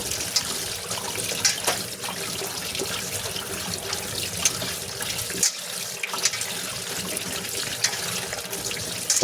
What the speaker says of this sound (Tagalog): hugasan na po natin itong pechay para malinis at wala ng tubig mamaya pag atin pong isinahog